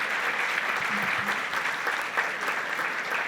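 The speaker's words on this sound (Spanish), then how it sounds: "el aplauso se vale" Sustained applause from a standing audience at an International Archives Day panel ceremony, a dense, even wash of clapping heard throughout the whole stretch.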